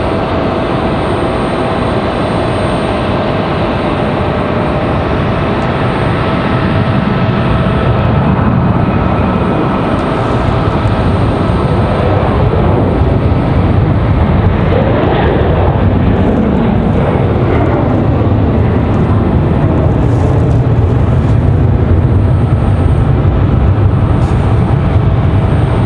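Delta flight 462, an airliner departing Raleigh-Durham International Airport for Los Angeles, makes a loud, sustained jet engine roar that swells and sweeps as it passes and climbs, heard from nearby and outdoors.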